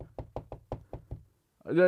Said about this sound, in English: Open the damn door, Johnson.